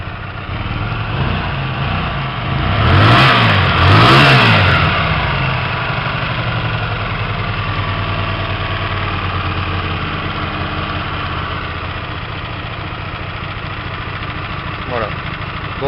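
Hyosung 125 GTR motorcycle engine held at a steady idle near 1500 rpm, with a brief two-stage rev rising and falling early on before settling back into a constant close, loud drone.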